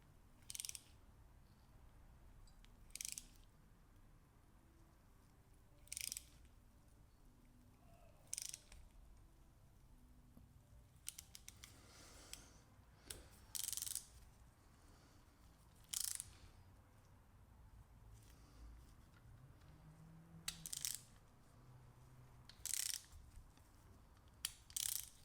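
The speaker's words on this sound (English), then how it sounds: "As I feel the tap tighten, I apply a small amount of upward pressure and then cut new material." A thread tap cuts a new thread for the oil sump bolt on a Honda CRM250AR. Faint, evenly spaced ratcheting clicks repeat about every two to three seconds, close by and quiet, with no talking.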